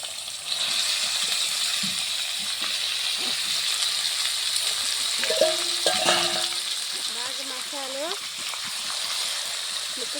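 Chicken pieces dropped into cooked masala and oil in a home kitchen pan, sizzling and frying steadily throughout with stirring scrapes, while a voice talks over it.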